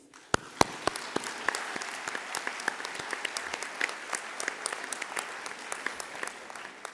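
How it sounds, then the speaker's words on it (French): An audience applauds the finalists of an eloquence competition final, a steady sustained clapping from a modest crowd, fairly close and even throughout. "nous pouvons les applaudir"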